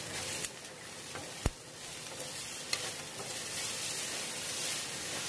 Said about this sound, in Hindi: दो से तीन मिनट में ये और फ्राई कर लेती हूँ हल्दी डालने के बाद